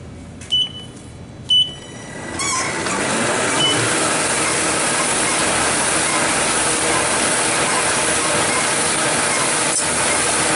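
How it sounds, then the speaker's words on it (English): A Ryobi 3302M two-color offset printing press, fitted with Crestline dampeners and a pre-dryer, runs paper without ink: a couple of beeps, then a loud, steady mechanical clatter of rollers and feed mechanisms that continues unbroken. "showing y'all that the machine is working"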